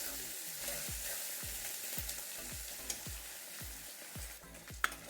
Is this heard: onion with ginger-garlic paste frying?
yes